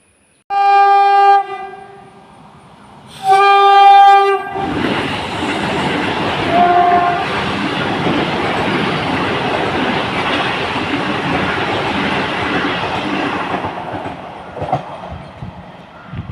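The Ernakulam–KSR Bengaluru Vande Bharat Express passes a railway station, opening with two loud horn blasts, then a long continuous rushing roar of the train going by that slowly fades near the end.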